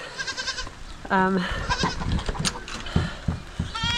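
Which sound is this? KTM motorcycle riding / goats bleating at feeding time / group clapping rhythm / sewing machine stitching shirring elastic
goats bleating at feeding time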